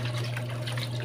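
Running water rinses cream degreasing dish soap off dishes, a steady close hiss and splash that continues evenly and moderately loud throughout the short moment.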